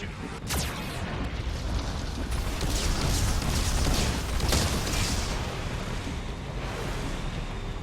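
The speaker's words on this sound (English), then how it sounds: "Warning. Geth cannon is locking on our location." Geth cannon fire in the video game Mass Effect 2, heard as a loud, sustained mechanical roar with booming blasts and rushing noise that fill the whole span without talk.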